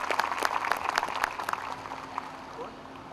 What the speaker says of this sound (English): May I have a round of applause for all my babies?